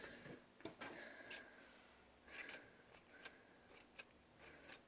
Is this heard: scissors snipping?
yes